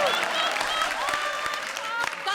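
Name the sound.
audience applause at a comedy show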